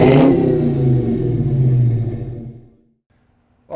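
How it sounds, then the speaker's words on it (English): A loud custom exhaust on a 2021 Dodge Charger Hellcat Redeye revs up sharply, then holds a deep rumbling roar that fades away over a few seconds before a brief burst returns. "this right now happens to be the loudest exhaust that we have in the garage"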